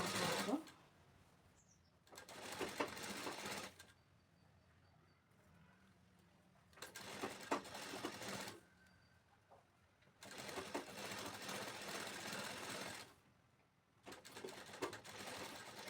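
A sewing machine stitching the lining of a blouse in loud, rapid mechanical bursts of a couple of seconds each, separated by short quiet pauses as the fabric is adjusted.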